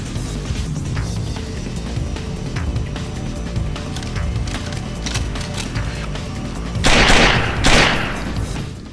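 Gunfire in the Splinter Cell video game, a steady stream of shots and impacts under ambient game noise, with two louder, harsher bursts near the end.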